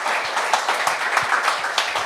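A studio audience on a Quebec talk show claps together in a short, dense burst of applause that holds steady for about two seconds.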